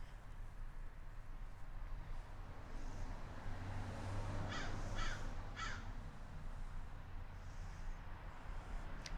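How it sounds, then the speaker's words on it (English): A crow caws a few times from a pine tree branch, a short burst of harsh calls in the middle of a steady outdoor background hum with faint distant traffic. "There's a crow that is very curious about what is happening, watching me from a branch in my pine tree"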